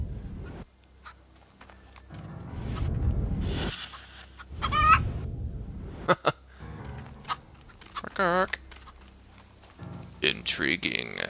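A chicken in the video game Destroy All Humans! clucks in short, scattered bursts alongside game effects, loud and close, with someone talking at intervals.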